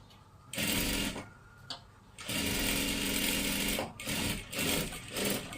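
A sewing machine stitches a salwar in short, steady running bursts, stopping and restarting several times with brief quiet gaps, close and fairly loud.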